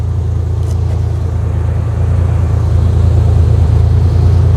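A 1990 Ford Bronco II engine idling steadily and smoothly, a loud, close, continuous low rumble with no voices.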